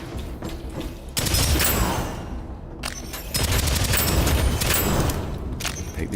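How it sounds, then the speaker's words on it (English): Laser gun firing in the video game DeadZone: Rogue: rapid, sustained bursts of loud automatic shots with mechanical clatter, broken by a short pause before firing resumes. "Good laser gun. Shoots fast."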